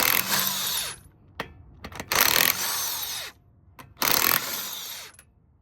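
Wheel bolts on an Audi Q7's front wheel are loosened with a 19mm impact or breaker bar, giving three loud, close whirring bursts of roughly a second each, separated by short pauses and a few clicks.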